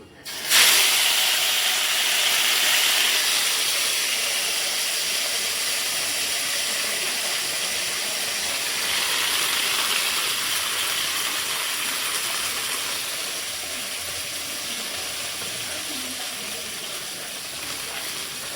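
Coriander leaves hit hot oil with cumin seeds and asafoetida and set off a sudden loud sizzle. The hiss starts abruptly, then holds steady and close before easing slightly as it goes on.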